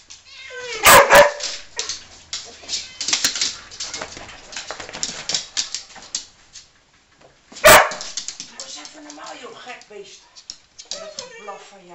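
A dog barks in sharp, loud bursts during a walk, with whimpers and yips between them while people talk nearby.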